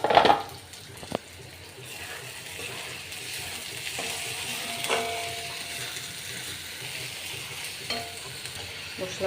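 Cumin powder, chili and chopped green chilies fry in an iron wok. A steady close sizzle runs throughout, broken by occasional scraping stirs and a sharp clink near the start, with no talking.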